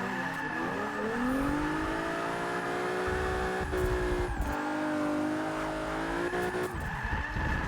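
A Mazda RX-7 race car drives hard at a distance, the engine droning steadily with shifts in pitch and bursts of tyre squeal as it works through the course.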